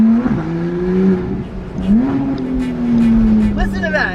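A 2015 Porsche 991 GT3's naturally aspirated engine revs close by, climbing twice in pitch with a sharp, singing tone before settling, with faint background noise underneath.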